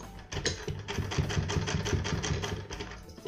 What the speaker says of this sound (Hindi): फिर यहाँ पर हम सिलाई चलाएंगे।